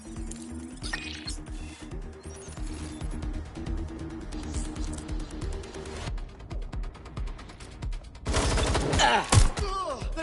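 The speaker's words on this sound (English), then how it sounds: "They're shooting at us!" Rapid gunfire in the video game Watch Dogs: Legion, dense bursts of shots crackling through most of the stretch over game music, with a louder, busier surge of firing near the end.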